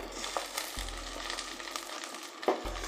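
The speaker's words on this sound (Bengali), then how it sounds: "রসুন কুচি দিয়ে 2 মিনিট হালকা ভাজার পর প্রথমেই দিয়ে দিচ্ছি একটু শক্ত জলপাইয়ের টুকরোগুলো।" Firm olive pieces fry in oil with chopped garlic for a sweet and sour olive pickle, producing a quiet, even sizzle broken by a couple of small clicks.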